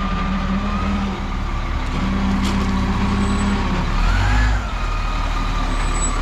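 A military fuel truck on a Marine base idles with a steady low diesel rumble and a faint whine, loud and close, with a brief rise in engine noise near the end and no talk.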